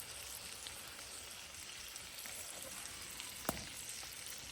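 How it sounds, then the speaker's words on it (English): Bacon frying in a pan over an outdoor campfire gives a steady, quiet sizzle throughout, with one brief sharper crackle near the end. "Bacon's just cooking away."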